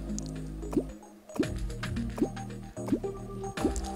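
Water gurgling and draining out of an airlock chamber in Terraria, with repeated wet dripping squelches every half second or so over a low steady hum of game sounds.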